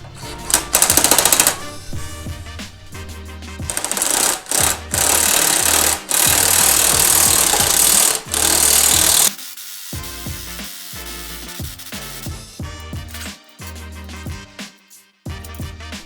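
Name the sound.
pressing a bearing into a Porsche 911 control arm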